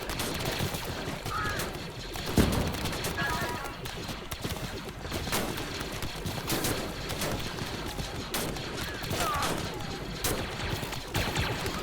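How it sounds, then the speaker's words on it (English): Continuous blaster fire fills a Clone Wars base defense battle in the Star Wars: Galaxy at War mod, with dense overlapping shots and occasional crashes forming a steady, busy din. "I would also think that the blaster sound effects should be increased a little bit"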